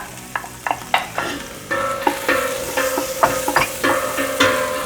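A quarter of an onion dropped into hot smoky fat for smoked beans, hissing and sizzling up close, with several sharp taps and scrapes of a utensil against the pot over a continuous frying crackle.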